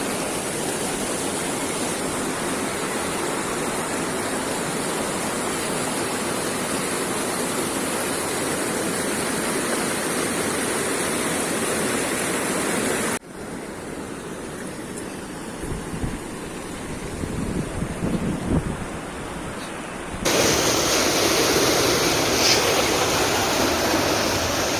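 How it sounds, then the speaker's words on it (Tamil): Water flows steadily in a stream near a Shivan temple at Krishnagiri, a broad rushing wash that drops quieter midway, with some faint knocks, then returns at full strength. "ஸோ இங்கே தண்ணி போயிட்டு இருக்குது."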